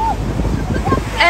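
Strong wind buffets the microphone at a beach, a rough, loud rumble with a person talking over it.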